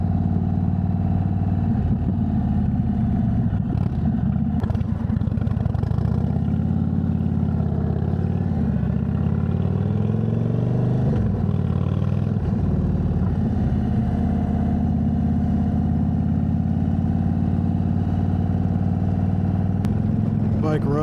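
An Indian Chief Bobber Dark Horse motorcycle rides along a bumpy road, its engine a steady close, low throbbing rumble with small shifts in pitch throughout.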